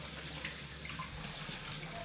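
Steady, faint tap water running into a sink during hand washing in a home kitchen, a continuous soft hiss with no voices.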